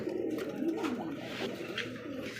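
Pigeons at a pigeon farm, a soft, continuous cooing close by, heard alone without talking.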